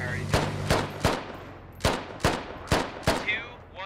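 Gunfire in the military shooter Squad during a one-life operation: seven sharp, loud shots fired singly at a steady rhythm, each ringing out with a short echoing tail.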